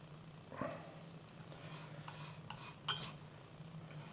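Homemade watercolour paint being scraped off a mixing surface, giving soft, intermittent rasping scrapes at close range over a quiet background hum, with a sharper scrape near the end.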